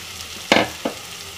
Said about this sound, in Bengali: মাছটাকে দিয়ে ভালোভাবে আরও কিছুক্ষণ ভেজে নেব।